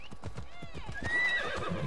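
Horse hooves clip-clop in a quick, steady rhythm in the game Assassin's Creed Odyssey, close and clear, with a horse neighing over the hoofbeats partway through.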